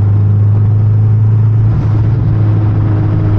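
A Honda Civic EG fitted with a K24 engine cruises in sixth gear around 3,000 RPM, giving a steady, loud, close low engine drone with a constant rumble and no voices.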